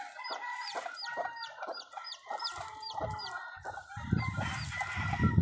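Rooster and hens of fighting-cock breeding stock on a farm, clucking in repeated rhythmic calls with sharp high chirps, close and fairly loud, with a rougher burst of noise near the end.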